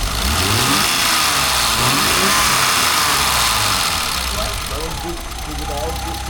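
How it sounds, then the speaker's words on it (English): A car engine, freshly rebuilt with its valves just adjusted, runs loud and close, its revs rising and falling in uneven surges over a rough idle. "Like the engine is running."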